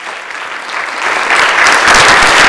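Applause from members on a legislative assembly floor, honoring a birthday, swells from moderate to loud and fills the room, a dense wash of many hands.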